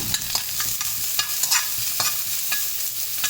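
Aromatics stirred constantly in a hot pan for Mongolian beef, a close, steady sizzle punctuated by sharp, irregular scrapes and taps of the utensil, with no talking.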